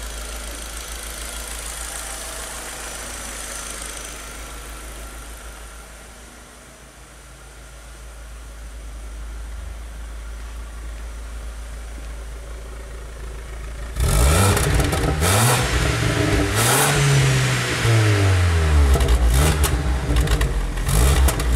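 A Chevrolet Astra 2.0 8v engine idling roughly at first, low and uneven with an occasional stumble, then revved hard several times, with rising and falling engine pitch, loud and close.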